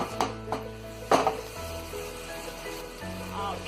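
Onions sizzle in a pan with melted butter and oil for gravy, a low steady fry with a few soft clinks and stirring knocks nearby.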